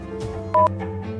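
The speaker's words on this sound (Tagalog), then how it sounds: "Tawagan ko muna si Shinyang" A phone keypad gives a single short two-tone dialing beep while a number is dialed, standing out clearly over a low steady hum.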